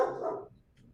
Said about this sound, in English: The dog is happy to bark.